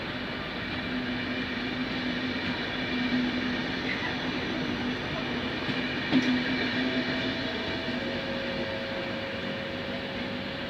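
A Trenitalia regional train rumbles steadily close by as it departs Treviso Centrale station, with a constant mechanical hum, a faint high whine and a brief clank partway through.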